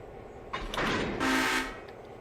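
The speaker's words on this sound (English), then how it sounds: "why do people complain about trains blowing their horns and whistles?" A train horn sounds in a modded train video game, a loud blast of roughly a second with a hissing, noisy edge and a fainter burst just before it.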